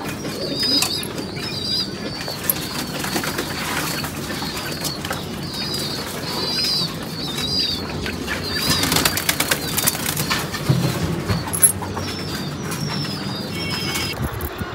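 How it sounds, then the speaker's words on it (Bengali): A pigeon perched up high on the left, wary of a cat, coos in soft repeated phrases amid steady outdoor background noise, with occasional fluttering wing sounds. "এই যে এখনও গাইছে একটা কবুতর আছে বামের উপরে"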